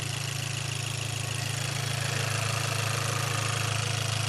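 A 2018 Chevy Malibu engine idles steadily while warming up after a vacuum pump and valve cover gasket repair, giving a loud, even, continuous low hum with a faint rhythmic pulse and no talking.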